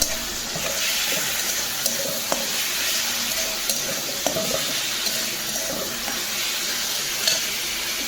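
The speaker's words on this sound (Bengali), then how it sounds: "এটাতে কিন্তু একটুখানি লবণও দিয়ে দেবো, এতে মশলাটা কিন্তু ভালোভাবে কষানো হয়ে যাবে।" Fish curry spices and a pinch of salt sauté in a pan with a steady sizzle, while a spoon taps and scrapes the pan now and then as the mixture is stirred.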